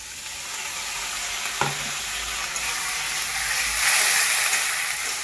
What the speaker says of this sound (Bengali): এবার চিংড়ি মাছটা দেওয়ার পর কিছুক্ষণ ভাজবো